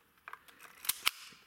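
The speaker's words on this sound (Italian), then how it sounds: "faccio sentire anche il rumore dello scatto" A Zeiss Ikon Contina LK camera fires its shutter, giving two sharp, close mechanical clicks less than a second apart, with a few softer handling ticks before them.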